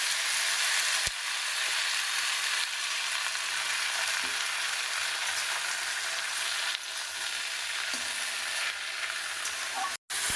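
Greens sizzling in a hot wok with tempering of whole spices, green chilli and bay leaf, a steady loud broadband hiss of frying that runs throughout with brief stirring knocks.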